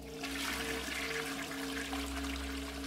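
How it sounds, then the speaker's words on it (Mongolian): A toilet flushes with a steady rushing of water and a low hum underneath, continuous for a few seconds with no talking. "Ус татах чимээ гарч"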